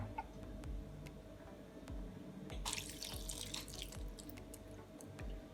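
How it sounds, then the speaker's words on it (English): Tap water runs steadily into a kitchen sink while conch is rinsed, with faint drips and light clinks over the flow and a brief louder splash midway. "I'm gonna add some water and rinse."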